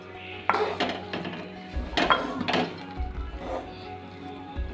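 Peanuts being stirred into melted jaggery in a pan for chikki, with several clanking scrapes and knocks of a spoon against the metal pan, spaced irregularly and fairly close.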